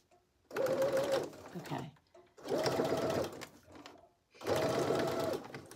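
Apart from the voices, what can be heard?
sewing machine stitching fabric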